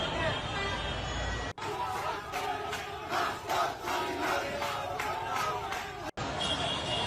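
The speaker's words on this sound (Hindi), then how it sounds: "देखिए हिंसक प्रदर्शन कितना हो रहा है" A violent street protest crowd of Sheikh Hasina supporters in Dhaka, Bangladesh, roars and shouts continuously, with surging cries rising and falling over a dense, loud babble of voices.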